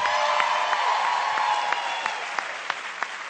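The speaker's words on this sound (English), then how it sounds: "Now, you enjoyed that applause, enjoyed that laughter." An audience applauds at a corporate team-building improv show, dense steady clapping from a crowd that thins slightly toward the end, with no voices.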